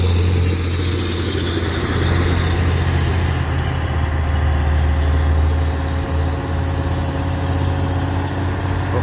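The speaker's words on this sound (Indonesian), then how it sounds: "Truk trailer bosku" A heavy trailer truck engine idles steadily at close range, a deep low rumble with a constant hum, no voices.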